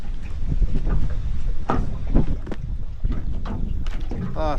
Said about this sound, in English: It's pretty windy today, but it's not cold.